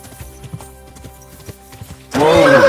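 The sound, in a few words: horse neighing and hooves in Kingdom Come Deliverance 2 video game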